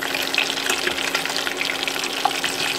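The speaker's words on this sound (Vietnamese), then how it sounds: "cho mình chiên lại lần nữa thì nó sẽ rất là giòn và ngon đấy" Pieces of chicken deep frying a second time in hot oil for extra crispness, a steady dense crackling sizzle with scattered pops, continuous and close throughout, no voices.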